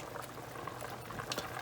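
Water draining from a large seafood boil pot, a steady, close gush and bubbling of liquid pouring out, continuous for a moment with no talking.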